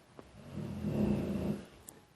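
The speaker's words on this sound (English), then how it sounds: "dog snoring" A dog snores softly nearby with one long, low, rumbling breath, alone in a quiet room.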